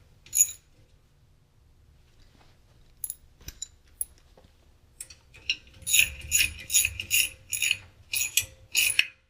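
A ratchet with a 9/16 socket tightens brake bolts on a Jeep Wrangler YJ rear disc brake conversion: a few sparse clicks, then a close, fast run of sharp ratcheting clicks in bursts, with no talk.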